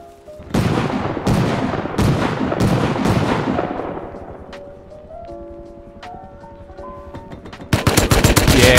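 AK rifle fire in a shooter video game, a loud close burst of several sharp shots with ringing decay, then scattered fainter game sounds and another dense burst at the end, with no talking.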